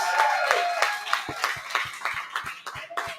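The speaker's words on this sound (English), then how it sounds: "a big thanks and applause to kind of all of the people that have helped to put this together" Clapping from a small group at a company rebrand presentation, a run of distinct hand claps with a loose rhythm that thins toward the end.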